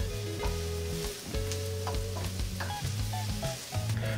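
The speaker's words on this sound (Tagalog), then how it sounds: "Ituloy lang natin ang pag-isa dito hanggang sa maging malambot na yung sibuyas." Onion and garlic sauté in a pan with a steady frying sizzle, punctuated by soft stirring scrapes, while faint background music plays.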